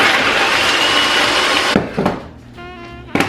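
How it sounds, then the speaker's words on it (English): A food processor liquefies pineapple and berries with a loud, steady whirring grind that cuts out abruptly partway through, leaving a faint ringing hum and a brief clatter before a final short buzz. "I am going to take this over to my food processor and mix it up until it's liquefied"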